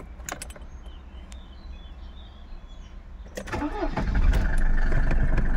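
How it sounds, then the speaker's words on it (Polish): A Mercedes W124 200d diesel engine cranks with a starter whir, catches and settles into a rough, rising idle after a quiet stretch of clicks and rustling, heard up close. "Mercedes diesel tak naprawdę potrzebuje prądu, paliwa i tyle. Świec dobrych i odpali zawsze i wszędzie."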